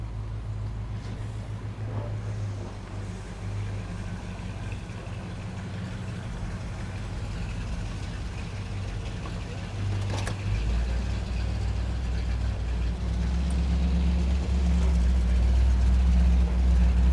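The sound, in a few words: 1986 Pontiac Firebird engine running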